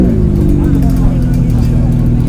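Ferrari 458 Challenge race car engine roaring loud and close on a track session, a steady heavy drone with strong low harmonics sustained throughout, with talk mixed in.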